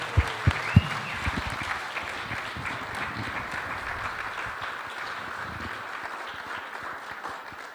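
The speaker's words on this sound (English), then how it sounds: "Please give a round of applause for these amazing artists." Audience applause after an artists' panel on Native American art and identity, opening with a few sharp separate claps that swell into steady, moderately faint clapping lasting several seconds.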